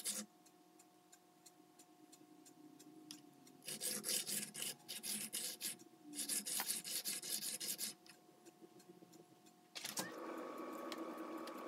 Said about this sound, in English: Here I'm attempting to dress the facets with a 300 grit diamond stone.